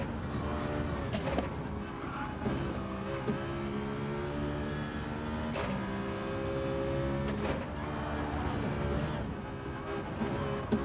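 A Citroen race car's engine in Gran Turismo 7 drones steadily and loud, shifting pitch as it revs and changes gear, with brief transient bursts scattered through.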